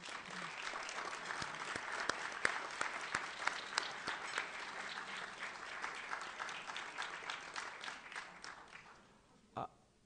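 An audience applauds at a Latino leadership award ceremony, dense sustained clapping from many hands for most of ten seconds, fading out toward the end with a brief tonal blip.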